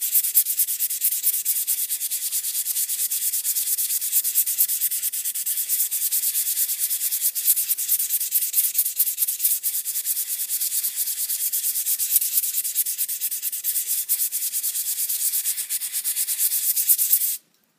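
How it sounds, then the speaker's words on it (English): A metal blade is sharpened on a stone with a steady, continuous hiss-like scraping of even loudness, sustained close up for the full length before stopping abruptly. "What you're doing now is just taking the metal off that was flattened by the stone"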